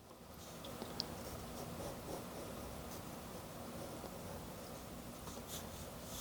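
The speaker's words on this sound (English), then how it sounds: "I'll draw another smaller rock here." A pencil sketching a rock in a sketchbook, a faint steady scratching and rustle of graphite on paper with a light tap near the start, quiet and close.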